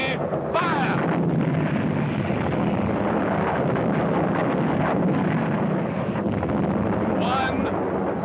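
Cannon volleys from an artillery battery in a 1969 period film, a loud dense rumble of booms and blasts with wind-like roar throughout, under a commanding voice shouting orders.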